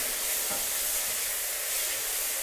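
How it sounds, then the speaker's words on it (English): Garlic sautéing in a hot pan gives a steady, close, even sizzle and hiss that runs unbroken throughout with no talking. "We're just gonna saute that for 1 minute."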